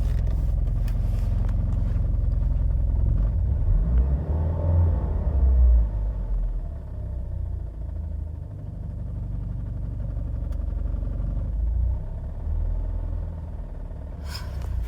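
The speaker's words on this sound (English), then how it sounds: "It's got a little bit of a rough idle to it" Turbocharged Cadillac engine idling roughly, a steady deep rumble with slight uneven surges, close and continuous throughout with no talking.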